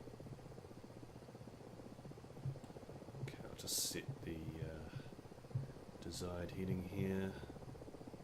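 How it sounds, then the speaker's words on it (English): An Mi-24 helicopter in a video game gives a continuous low rotor and engine drone, faint and steady, under someone speaking calmly. "the helicopter should pretty much just fly itself"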